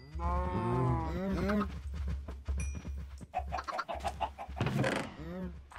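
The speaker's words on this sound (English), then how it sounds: "All right, cows, keep breeding." Cows in Minecraft let out a drawn-out, loud moo at the start and another near the end, with chickens clucking in between and a voice speaking softly beneath.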